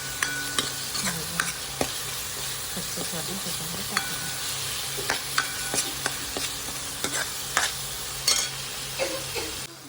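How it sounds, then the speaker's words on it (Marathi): Raw ground masala paste frying in oil for a whole-masoor curry, with a constant sizzle broken by repeated sharp spoon scrapes and stirs against the pan, close and steady. "मस्त तेल सुटेपर्यंत छान त्याला भाजून घेऊया"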